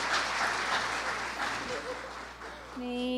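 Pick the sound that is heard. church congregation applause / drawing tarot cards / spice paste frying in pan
church congregation applause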